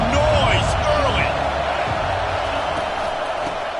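Roaring stadium crowd in a football video game, a steady, dense wash of cheering and noise sustained throughout, with a commentator's voice talking over it.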